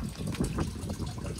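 Water trickles weakly from a family's home water supply in a rural province, a faint, steady, close splashing flow with no talk.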